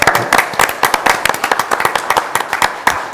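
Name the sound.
applause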